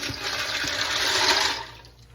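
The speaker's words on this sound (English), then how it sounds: "I have 4 cups of water. I'm going to dump that in." Four cups of water are dumped into a Ninja Speedi cooker over a pound of pasta shells, making a steady close splashing gush that fades out after about two seconds.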